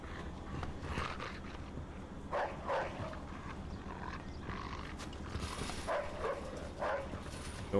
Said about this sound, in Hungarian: Aha, pont a kutya itt ugat.